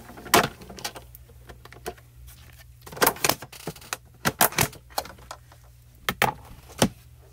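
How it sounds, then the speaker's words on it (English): A die cutting machine cutting out paper: scattered clicks, clunks and short rolling rumbles arrive in irregular bursts over a faint steady hum, close by and fairly quiet. "So I'm just going to die cut that out."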